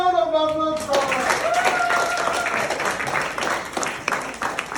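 Applause at a college tech quiz event, steady crowd clapping following a short sustained tone, continuing at fairly even loudness with faint voices underneath.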